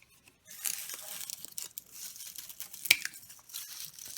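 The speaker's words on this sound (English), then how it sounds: "take some scissors and cut up some of this pine litter right here and mulch this cup" Scissors snip through long pine needle litter up close, a series of irregular crisp crunching and rustling cuts with one sharper snap near the end, no speech.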